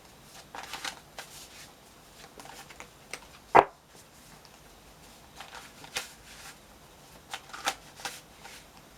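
Tarot cards being shuffled by hand, a soft papery riffling in scattered brief flurries with one sharp snap partway through, quiet and close with no talk over it.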